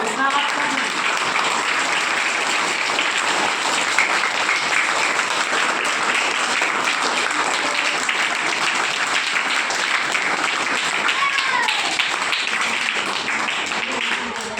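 An audience claps continuously at a Diwali gathering, a dense, even roar of hands lasting the whole stretch, with faint voices mixed in beneath.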